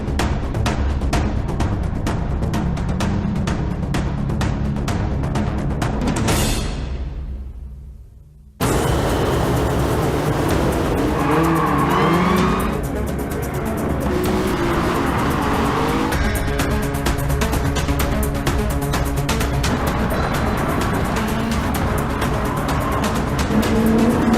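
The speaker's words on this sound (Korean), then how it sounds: "독점작 레이싱 게임 중에서는 원탑이라고 할 수 있겠습니다" Race cars from a PS5-exclusive racing video game roar past loudly with repeated tire squeals and skids, the engine noise briefly cutting to silence before resuming at full intensity.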